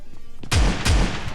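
Gunshots in the battle royale game PUBG Lite, two loud, close booming shots about a third of a second apart over low background rumble, with no talk.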